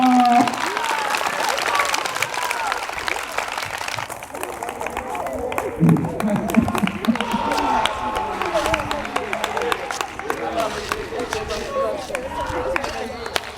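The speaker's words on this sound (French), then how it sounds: "On l'applaudit plus fort." An audience at a diploma ceremony in Anyama applauds through a long stretch of steady, moderately loud clapping, with voices talking and calling out underneath.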